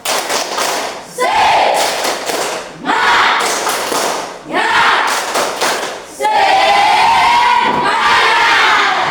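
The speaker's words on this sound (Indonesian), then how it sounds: "Satu kali lagi. Ayo terakhir. Oke. Tepuk semangat." A classroom group of teachers repeats a rhythmic spirit clap chant several times, each round a loud burst of unison clapping and shouted voices, the final round longest, with short gaps between rounds.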